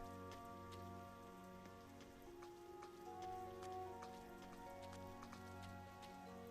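Heavy rain in the game Trails of Cold Steel 3 falls as a steady, soft hiss of drops running through the whole stretch alongside quiet background music, with no voices.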